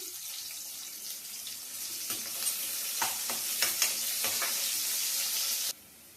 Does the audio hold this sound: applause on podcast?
no